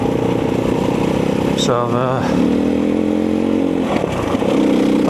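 A motorcycle rides along a moorland track at Redmire Moor, its engine droning steadily and close with a brief rise and fall in pitch, while someone talks over it.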